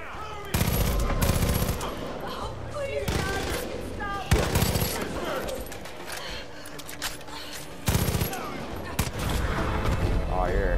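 Rapid bursts of automatic gunfire from a gun in the video game Far Cry 5, loud and repeated in several volleys with brief pauses, over game background sound and music, with some speech mixed in.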